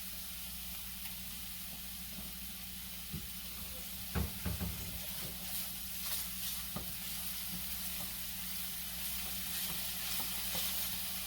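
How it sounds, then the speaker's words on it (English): Salted onions sizzle steadily in a pan for a risotto, a constant frying hiss broken by soft scrapes and knocks of a spoon as they are stirred, close and alone with no talk. "Just keep stirring these, just to make sure there's no hot spots, nothing gets too dark too quick."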